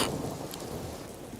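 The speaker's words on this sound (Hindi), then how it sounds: "एक तो बारिश हो रही है, सारी लकड़ियां भीग गई हैं।" Steady rain with a low thunder rumble, heard throughout a rainy scene where firewood has been soaked, a continuous wash of rainfall with no speech.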